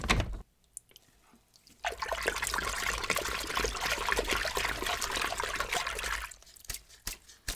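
Dirty cleaning water from scrubbing a PS5 is changed, pouring and splashing steadily for several seconds, loud and close, with quieter trickles before and after.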